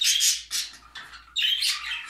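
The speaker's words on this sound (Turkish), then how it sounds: "Tabii balkonda arkadaşlar kuşlar daha sesli, daha canlı." Budgerigars on a balcony chirp and squawk in bright, chattering bursts, several overlapping calls with brief pauses between, fairly close and lively.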